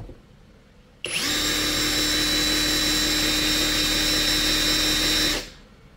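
A cordless brushless impact wrench on its high setting spins up abruptly and runs free with a steady, loud whine for about four seconds before cutting off and spinning down.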